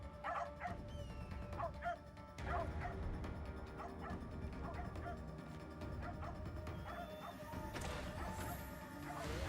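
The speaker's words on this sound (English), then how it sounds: "Enough of that damn barking!" A dog in the video game Assassin's Creed Shadows barks and yips repeatedly at moderate distance, the barks recurring irregularly over a dense, busy game soundscape.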